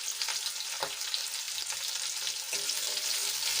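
Chopped garlic cloves and large pieces of ginger fry in a pan for a paneer curry, giving a steady close sizzle with a couple of soft stirring scrapes and no talking.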